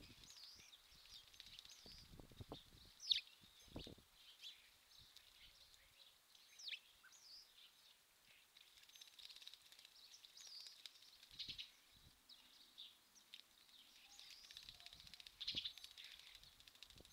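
Small garden birds, including a starling, splash and flap their wings while bathing in front of a trail camera, with brief bursts of wingbeats and spray amid faint chirps and outdoor background noise.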